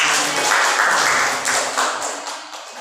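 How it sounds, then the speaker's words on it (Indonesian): A group of teachers in a training session claps together, a soft, even patter of many hands lasting a few seconds with no talk over it. "tepuk tangan untuk kita semua"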